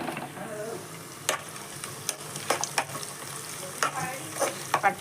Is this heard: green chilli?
yes